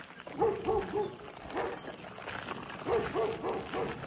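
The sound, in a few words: German Shepherd dog barking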